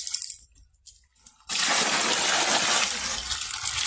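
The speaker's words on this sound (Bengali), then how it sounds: "পানি দিয়ে পরিষ্কার করতেছে" Scattered faint clinks and splashes give way to a sudden strong gush of running water that pours loudly and steadily as fish are rinsed under the flow.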